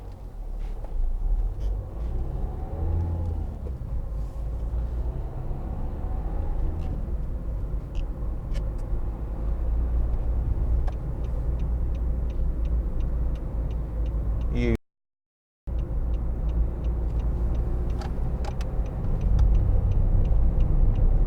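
Cabin drone of a 2013 Nissan Note 1.5 dCi on the move, a steady low road and engine hum with faint ticking, continuous apart from a brief dropout near the end.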